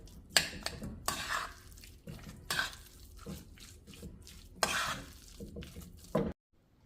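Food being mixed by hand or spoon in a metal bowl, with a series of clinking, scraping knocks at an irregular pace and no voices.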